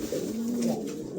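A pair of pigeons cooing softly and continuously, a low rolling coo held close and steady throughout with no talk.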